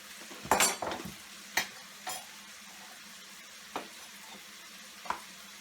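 Minced chicken with turmeric tossed in a frying pan: soft sizzling under several sharp scrapes and knocks of a utensil against the pan, with bursts of stirring spread irregularly through the quiet stretches.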